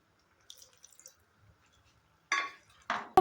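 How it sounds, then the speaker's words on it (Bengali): Water poured into a cooking pan of Tangra fish, a few short splashing bursts near the end after quiet faint drips and clinks, close and clear with no talk. "আর একটু জল দেব"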